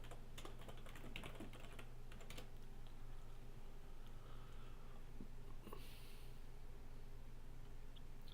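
Rapid typing on a computer keyboard, loudest in a dense burst over the first couple of seconds and then thinning to scattered keystrokes over a steady low hum, with no voices.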